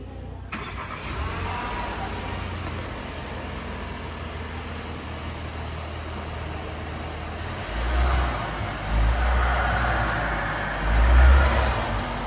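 A Volkswagen Tiguan Allspace SUV engine starts up and settles into a low, steady idle, then gives a few deeper revs toward the end. No one speaks.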